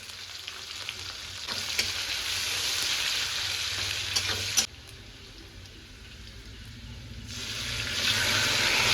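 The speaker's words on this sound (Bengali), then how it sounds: "কুচনো পেঁয়াজ কিছুটা দিয়েছি ম্যারিনেটে আর কিছুটা দেবো এখন তেলে।" Chopped onion frying in hot oil with bay leaf, dried red chili, whole garam masala and cumin, giving a loud, continuous crackling sizzle that drops briefly midway, then swells again as it is stirred.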